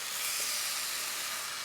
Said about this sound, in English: put a little oil in the pan right in the center. We're going to throw in the steak